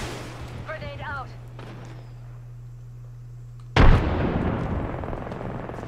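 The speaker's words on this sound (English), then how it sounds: "Grenade out." A grenade detonates in a multiplayer shooter video game, a sudden loud blast followed by a decaying rumble, after a short stretch of speech and a steady low hum.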